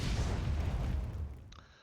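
A big cannon in the video game Entropia Universe fires a single heavy boom that rolls off and fades, followed by a brief high electronic tone.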